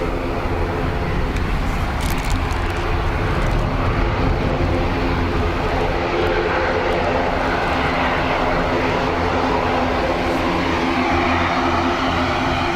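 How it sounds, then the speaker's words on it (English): A Loganair ATR turboprop at Dublin Airport on a windy, wet day gives a loud, close, steady propeller and engine drone with a low hum, sustained throughout. "Logan Air, ATR."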